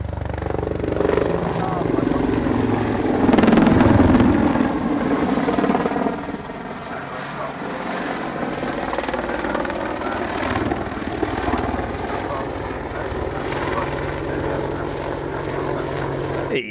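Apache helicopter flying a display: loud thudding rotor and turbine whine, strongest early then easing into a steady drone as it moves off, with a voice talking over it.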